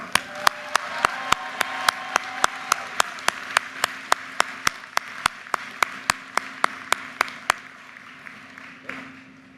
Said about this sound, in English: How about a round of applause for everyone?